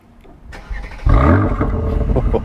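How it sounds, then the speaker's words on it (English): A 2021 Mercedes-AMG GLC 43's 3-liter bi-turbo V6 cranks briefly then catches and settles into a steady, deep idle, close and fairly loud. "Let's take a listen to the GLC once you start it up."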